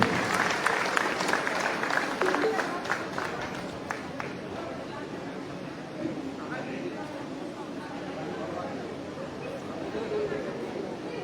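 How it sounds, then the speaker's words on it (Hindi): Loud applause from an audience welcoming a teachers' association vice-president at an old-pension gratitude conference in Jagdalpur, dense and steady through the whole stretch, strongest at the start and easing slightly later. "जोरदार तालियों से स्वागत करें"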